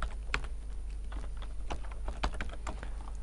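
Typing on a computer keyboard while entering programming code, with close, irregular key clicks and taps in short bursts over a low steady hum, no talking.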